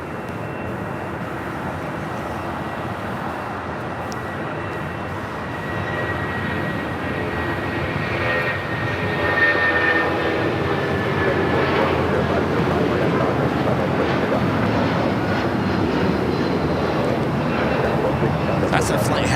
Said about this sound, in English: That's a flight heading to Denver, and that's 757 at 300.